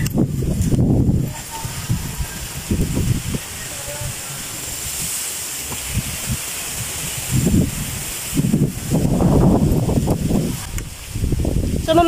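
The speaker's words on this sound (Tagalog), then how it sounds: "Guys, kita niyo po kung gaano kahangin dito." Strong wind blows outdoors in a steady, rushing roar that swells in gusts, with a person talking over it at intervals.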